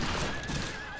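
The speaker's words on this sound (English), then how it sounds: "No, I shot the horse." A horse in the western shooter game Fistful of Frags gives a brief whinny, heard as a high wavering tone over a dense, noisy game soundscape with no talk.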